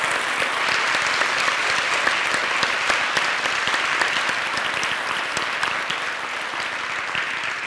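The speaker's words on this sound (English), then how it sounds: "Please give them a round of applause." Audience applause at a public forum on empowering girls, sustained and fairly loud with dense, even clapping that holds steady throughout and eases slightly toward the end, no voices heard.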